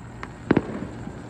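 Fireworks go off at an outdoor Fourth of July celebration: a faint early pop, then two close sharp bangs in quick succession, followed by a few softer distant pops against steady background noise.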